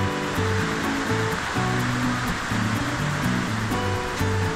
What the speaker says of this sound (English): the rain is so loud on the metal roof here